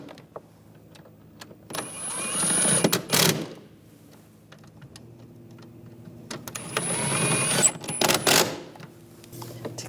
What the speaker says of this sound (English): Get all those bolts started. I'll tighten these down.